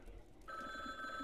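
A telephone rings inside the indie horror game Last Stop: Station 66, a steady electronic bell tone starting partway through and continuing loud and clear to the end, with no talk over it.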